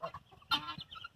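A few quiet, close chicken clucks, short and irregular, with soft rustling between them.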